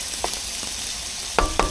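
Pieces of fatty meat frying in a pan in a home kitchen, with a steady sizzle and several sharp pops of spattering fat clustered toward the end.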